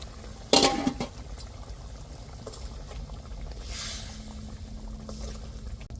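Masala gravy for a chicken curry bubbling in a pot, a steady soft simmering hiss with a brief louder clatter near the start, close and alone without talk.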